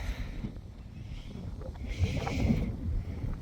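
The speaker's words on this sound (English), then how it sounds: "it's so windy" Steady low rumbling wind buffets the microphone, swelling slightly partway through, with no talking.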